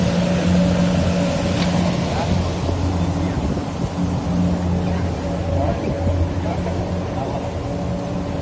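Large fishing boat powered by three Suzuki 300 outboard motors at sea off the UAE on a slow-jigging trip; a steady, droning engine hum mixes with wind and water noise while people talk over it.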